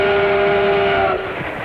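A model train whistle from a Zero M toy train with Magna Traction, heard as a loud, steady, sustained tone in a vintage toy commercial that fades slightly at the end, with no voices over it.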